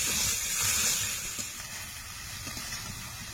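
Masala sizzling and hissing steadily as it is sautéed in a pan for an aloo katla fish curry, a continuous close frying hiss that eases off slightly toward the end, with no talking.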